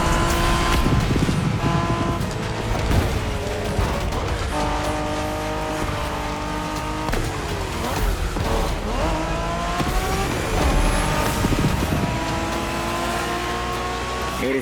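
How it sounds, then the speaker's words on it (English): Japanese street racing cars roar through a race in The Crew Motorfest, with loud, steady engine drones rising and falling through gear changes and occasional tire squeal, continuous and close. "We're going for some proper Japanese street racing."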